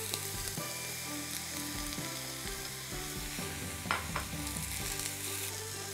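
Mushrooms sizzle in oil in a pan with onion that is already lightly golden, a steady close frying hiss with occasional pops and stirring clatter.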